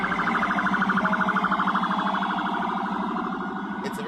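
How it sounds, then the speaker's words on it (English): Police sirens wail in a continuous rising-and-falling pattern from a vehicle convoy in New York City, heard moderately loud through a recording with no talk over it. "The doors are open, the sirens are on."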